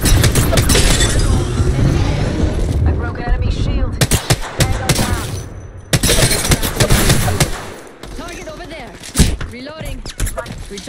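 Apex Legends gunfire rattles in loud rapid bursts and single cracks, broken by short pauses, mixed with game voice callouts and other speech.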